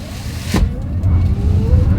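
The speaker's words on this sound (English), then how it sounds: "Let's put the acceleration here to the test, and let's see how quickly we can get this one here up to speed." A 2025 Toyota bZ4X electric car pulls away under hard acceleration, giving a steady low drivetrain and road rumble with faint rising whine, close and moderately loud, without speech.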